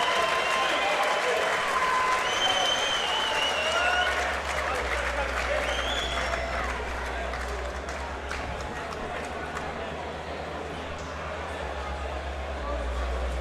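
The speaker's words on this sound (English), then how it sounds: "And a round of applause for the brave and gallant Mark Butler." Crowd applause and cheering at a boxing fight night, a loud, dense wash of clapping with whistles and shouts lasting throughout, steady with slight swells and a low hum underneath.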